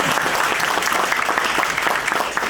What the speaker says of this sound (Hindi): सबसे पहले big round of applause for the entire real estate community जो आज यहाँ तशरीफ लेके आई है